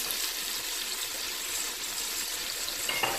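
Steak and onions frying in a pan with Worcestershire sauce, a steady close sizzle with soft crackles and no talking.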